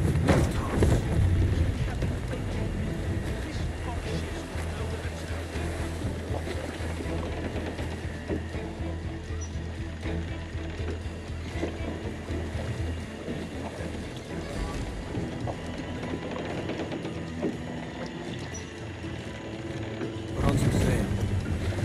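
A sailing ship at sea in Assassin's Creed IV Black Flag, with a loud, steady rush of wind and washing water running unbroken throughout.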